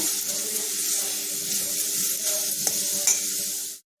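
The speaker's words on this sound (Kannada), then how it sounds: "ಇದನ್ನು ಇವಾಗ ತುಪ್ಪದಲ್ಲಿ ಹುರ್ಕೊಳ್ಳೋಣ ಸ್ವಲ್ಪ ಬಟಾಣಿ ಕೂಡ ಇದರ ಜೊತೆ ಹಾಕ್ಕೊಳ್ತಾ ಇದ್ದೀನಿ" Raw turmeric root and green peas fry slowly in ghee with a steady, close sizzle, broken by a couple of sharp clinks of stirring, with no talking.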